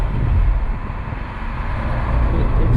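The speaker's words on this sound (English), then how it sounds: "little third gear pull for you guys." A BMW Z4 2.5i E85 roadster with a 5-speed manual pulls hard in third gear, its engine a steady loud drone with heavy wind rush across the whole stretch.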